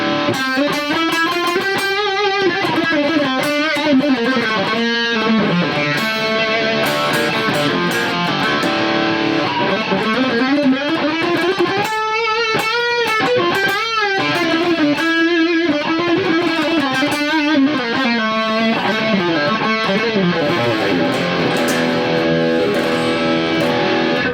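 A 2020 Yngwie Malmsteen signature Stratocaster plays fast, sustained lead lines through an amp head driven by a volume boost, with thick, constant distortion and no pauses.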